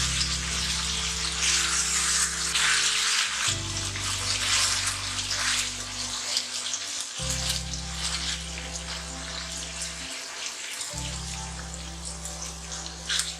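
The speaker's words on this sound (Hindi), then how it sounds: "इतना पानी डालना है कि फिशेस डिप हो जाएं" Water pours steadily into a sizzling pan of frying fish curry, a continuous splashing hiss over a low hum, with no voices.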